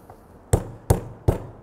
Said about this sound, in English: You're gonna use your meat mallet.